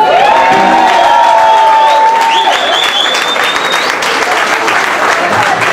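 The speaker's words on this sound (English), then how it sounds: "Mind if I give the little lady a nice round of applause?" A crowd claps steadily throughout, a dense continuous wash of applause for a young girl drummer at a music event, with a musical tone and some voices blended in.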